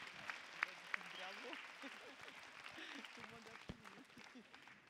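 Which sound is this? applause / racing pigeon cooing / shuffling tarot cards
applause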